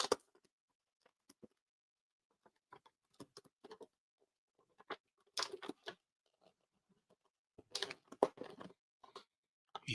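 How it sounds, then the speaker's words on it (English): Scissors snip through plastic packaging to free an Animal Man action figure, giving scattered short crisp cuts and crinkles, quiet and close, with bursts of clustered snipping between pauses. "I've got scissors so I can cut him out now."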